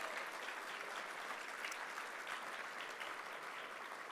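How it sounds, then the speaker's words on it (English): Audience applause for event sponsors at a World Trade Week gathering, a steady dense wash of many hands clapping that holds evenly throughout without a break. "Let's give them a round of applause."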